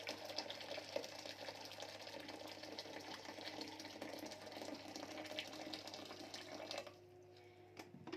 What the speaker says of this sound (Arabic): هحط مية سخنة سخنتها في الكاتل